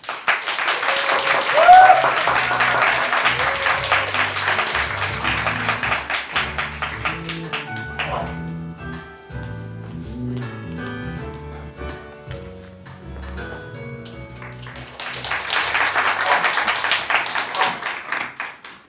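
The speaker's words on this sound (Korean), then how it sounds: "큰 박수 부탁드립니다." Audience applause at a youth speech contest in Gwangjin-gu, swelling loudly for several seconds and fading as a speaker begins, then rising again toward the end; a voice talks through the quieter middle stretch.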